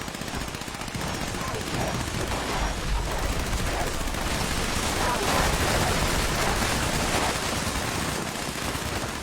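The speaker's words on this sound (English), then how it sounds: "A whole lot of gunfire." Dense, continuous bursts of rapid automatic gunfire in the video game Fallout 76, with heavy volleys overlapping for the whole stretch, loud and unrelenting, with no clear voices.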